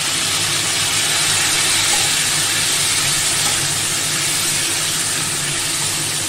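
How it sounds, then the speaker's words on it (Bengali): Onion paste hitting a hot pan and frying, a steady loud broadband sizzle and hiss that holds evenly throughout with no talking. "দেখো এর মধ্যে এবার আমি পেঁয়াজ বাটাটা ঢেলে দেবো।"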